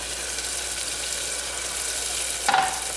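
A fish curry sauce sizzles steadily in a pan as it is stirred, a soft continuous frying hiss capped near the end by a brief scraping clink, quiet and close with no talking.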